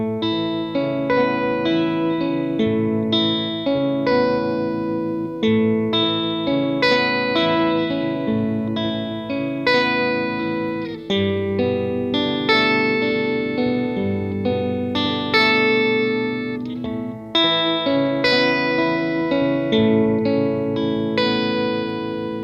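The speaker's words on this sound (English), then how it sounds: "here's just some basic, real soft arpeggios using a lower octave." Soft electric guitar arpeggios run through an Earthquaker Devices Organizer pedal set to add a lower octave, giving an organ-like effected tone with chiming notes ringing steadily throughout, no voices.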